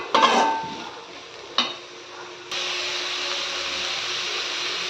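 Vegetables being sautéed in a pan while cooking omelette rice, with a few sharp stirring scrapes followed by a steady hissing sizzle that holds at an even level.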